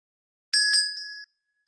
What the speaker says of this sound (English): Today, I've usually been taking my meditation bell.